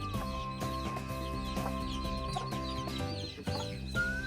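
Gamefowl hen clucking amid her chicks, with steady overlapping clucks and peeps close by, a busy continuous brood chatter throughout.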